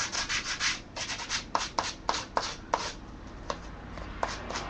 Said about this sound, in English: Then I sand the edges.